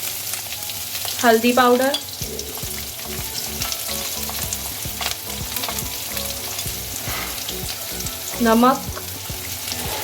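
Poha being fried in a pan with chopped onions, turmeric powder and salt, giving a steady sizzling hiss with stirring scrapes throughout, while someone speaks in short phrases over it.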